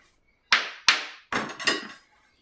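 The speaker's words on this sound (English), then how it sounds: "Hammer." A hammer strikes four sharp, loud blows in quick succession, close up, each with a short ringing decay, during skein winding work.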